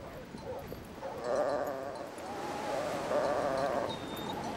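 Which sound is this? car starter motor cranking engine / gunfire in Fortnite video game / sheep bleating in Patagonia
sheep bleating in Patagonia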